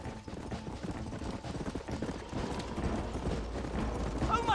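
A horse galloping in the Red Dead Redemption video game, with rhythmic hoofbeats over game sounds and a burst near the end, moderately loud and steady throughout.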